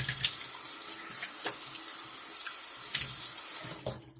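Water runs steadily from a bathroom sink tap during face rinsing, a close continuous hiss with small splashes and shifts, cutting off abruptly at the end.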